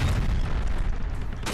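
Gasoline barrels explode in the video game L.A. Noire, a deep booming blast rolling out with low rumble and debris crackle, fairly subdued and without talk.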